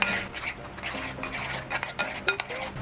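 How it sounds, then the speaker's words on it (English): Olive oil hair mask being stirred in a bowl for a dry-hair treatment, giving steady scraping and clinking of a utensil against the bowl with small wet rubbing sounds, close and alone. "I'm going to go ahead and mix it."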